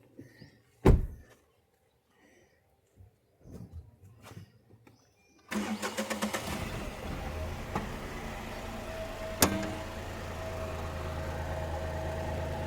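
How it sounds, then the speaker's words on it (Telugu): A 2020 Tata Altroz XZ+ top-end hatchback in excellent condition cranks and starts, then settles into a steady, fairly loud idle that runs on continuously, with a click or door sound just before. "చూడండి ఒకసారి బండి స్టార్ట్ చేశాను. చూడండి సౌండ్."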